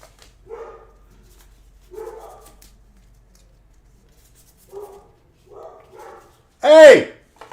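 Dogs barking in short bursts a little way off, several separate woofs spread over the moment, ending in one loud close bark with a yelp-like rise.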